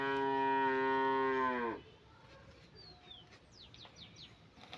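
A cow lets out one long, loud, close moo lasting almost two seconds, then birds chirp and twitter softly in the quiet background.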